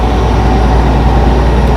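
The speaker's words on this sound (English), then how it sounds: "Peterbilts with the Caterpillar engines." A Peterbilt truck with a Caterpillar engine roars with a loud, steady, low-pitched drone on the road, continuous and heavy with no voices.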